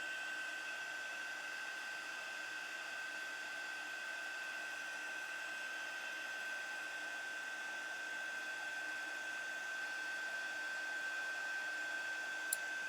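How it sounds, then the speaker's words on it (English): Heat tool blowing hot air to dry and puff snowfall accent paste on a snowman card, a steady close whooshing roar with a high whine running unbroken throughout, no speech. "The heat dries it and puffs it up."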